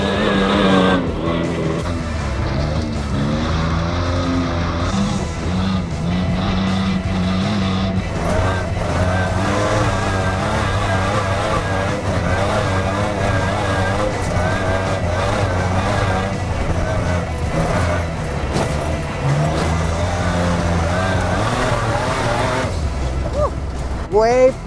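A race truck's loud engine roars and revs continuously as it drives hard off-road over rough ground and holes, testing softened rear suspension, with shifting pitch, rattles and occasional voices mixed in.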